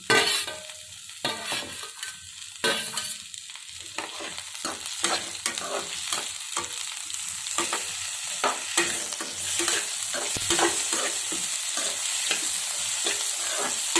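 Tomato pieces frying in a pan for semiya upma, with a continuous hiss of sizzle and repeated sharp scrapes and clinks of a spatula stirring throughout, close and fairly loud, no voices.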